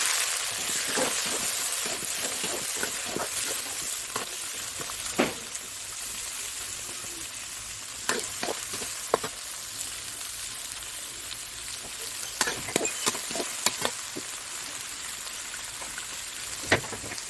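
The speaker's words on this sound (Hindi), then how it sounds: "और अब इसमें छुकेंगे करेले" Bitter gourd sizzles and crackles in a hot pan with fenugreek seeds, a steady hiss with scattered sharp pops and spatters throughout.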